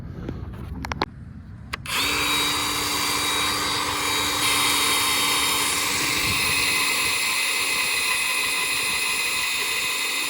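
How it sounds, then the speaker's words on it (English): A Milwaukee magnetic drill with a well-worn bit boring into steel, a loud steady motor whine that starts after a couple of clicks and holds continuously with grinding cutting noise underneath. "This bit has drilled a ton of holes, so it takes a little bit to get her started"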